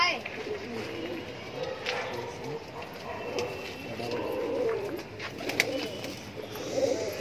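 Border high flyer pigeons cooing in a flock: soft, low, overlapping coos at moderate distance, with faint scuffling and movement around them and no clear talking.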